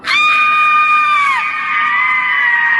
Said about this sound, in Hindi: तभी बाहर से काव्या की जोरदार चीख सुनाई दी।